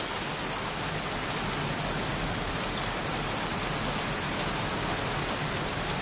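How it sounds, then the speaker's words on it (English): Steady rain falls in the video game Heavy Rain, a dense, continuous hiss of drops pouring down without pause, close and fairly loud with no voices over it. "Goddamn rain. Soaking wet."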